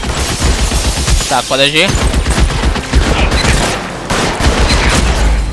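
Gunfire in the L.A. Noire video game, a rapid series of sharp shots running under a man's speech, with a brief whistling tone midway through.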